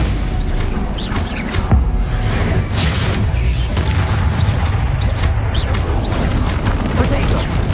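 A Stupefy spell cast in Hogwarts Legacy lands as a loud whooshing blast inside a dense, continuous wash of combat effects and booming impacts.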